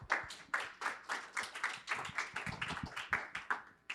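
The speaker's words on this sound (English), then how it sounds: "Give group 2 a round of applause." A small class group claps for a team of students after their presentation, with scattered, uneven hand claps at close range and no talking.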